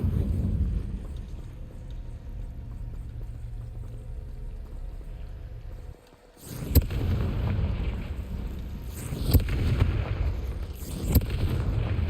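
The Confringo fire spell explodes in Hogwarts Legacy: a low rumbling drone breaks off, then a sudden loud blast erupts and trails into crackling, booming debris with a few sharp bursts.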